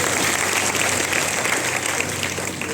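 Dense, steady applause from a large audience at a speech event in Nagpur, a continuous wash of many hands clapping that holds evenly throughout without a break.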